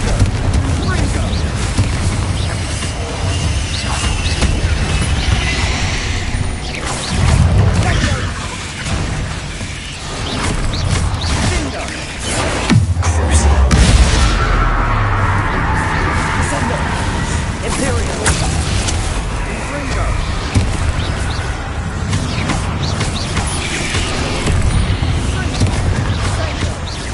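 Repeated Confringo blasting spell explosions in Hogwarts Legacy, booming bursts and rumbling debris layered over busy game sound for nearly half a minute, with a voice calling out spells throughout.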